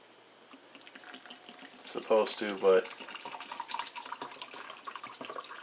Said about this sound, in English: okay, we'll get a little water in there.